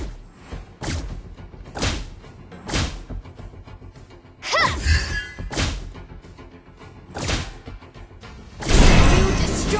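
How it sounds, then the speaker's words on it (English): A turret crumbling in Mobile Legends, heavy thuds and impact bursts repeating roughly every second before a louder crashing burst near the end, with game voice chatter mixed in. "You destroyed a turret!"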